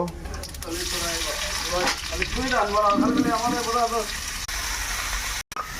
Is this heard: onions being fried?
yes